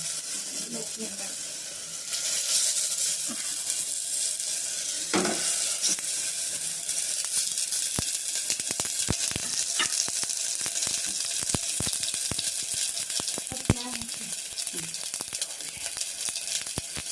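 Egg puffs fry gently in ghee in a round pan over a low flame, giving a continuous soft sizzle with occasional stirring clicks and scrapes.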